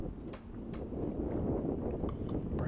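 Strong gusting wind buffeting the microphone on an open disc golf course, a continuous low roar that rises and falls with the gusts, with faint clinks from the basket chains.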